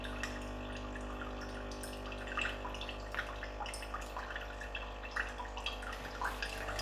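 Water dribbles out of a Tassimo Suny coffee machine during its cleaning cycle, a faint trickle with scattered small drips over a steady low hum from the machine.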